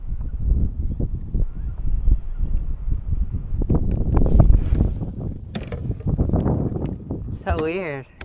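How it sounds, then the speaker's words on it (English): Gusty wind buffets the microphone at a pond during early-spring kayak fishing, roaring and rumbling continuously with scattered knocks and creaks from the kayak. "So windy."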